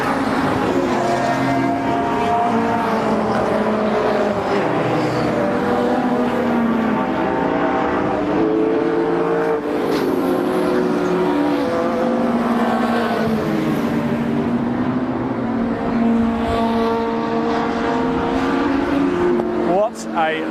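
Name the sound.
race cars lapping at Brands Hatch Indy circuit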